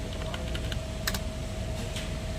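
Keystrokes on a computer keyboard as an MR number is entered for a deposit receipt reprint, a quick run of light taps with a brief denser burst near the middle, close up over a steady electronic hum.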